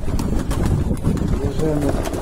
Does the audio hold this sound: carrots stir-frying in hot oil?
no